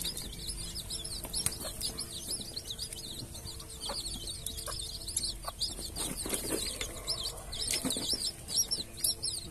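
Three-day-old hybrid jungle fowl chicks cluck and cheep in a steady high chatter, with soft wing flutters and scuffling close by, no talking.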